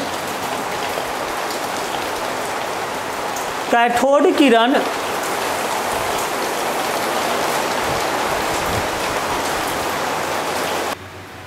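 Steady rain falls heavily on a surface as a constant hiss throughout, with a brief burst of speech near the start.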